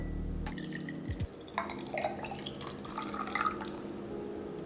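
Golden beet juice dripping from a Nama J2 juicer into a container after a motor hum cuts off, with irregular close, faint drips and small liquid splashes and no talk.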